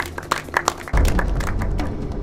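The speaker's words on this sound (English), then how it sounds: "Let's give him a big pity round of applause." A handful of separate claps comes first, then a fuller round of applause breaks out and holds steady, moderately loud and fairly close.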